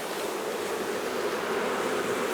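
Honey bees swarm over a hive frame in a dense, steady buzz, a continuous close hum with no break and no voices over it.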